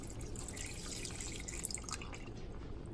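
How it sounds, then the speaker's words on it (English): Spring water poured into a pot on a stovetop while making sea moss gel, a steady close splashing and trickling flow that runs for about two seconds and then fades. "We're just going to pour it in."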